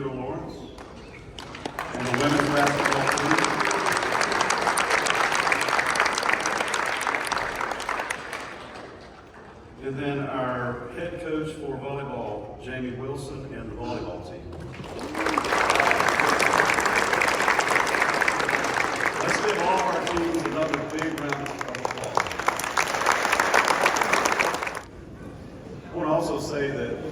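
A gym audience at a college dedication event applauds the women's basketball team and head coach in long, loud bursts of clapping and cheering, broken by a quieter stretch of talk before a second sustained round swells up.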